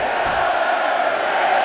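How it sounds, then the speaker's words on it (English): Arena crowd noise from a WWE 2K22 wrestling match, a steady roaring wall of cheering fans that holds constant and loud for the whole moment with no pauses. "Listen to this crowd count the next one in."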